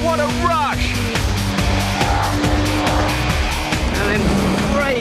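An Ariel Atom sports car running without ABS or traction control, its engine note stepping down through a downshift to third gear while the tyres squeal into a skid, loud and continuous throughout, with a voice speaking over it.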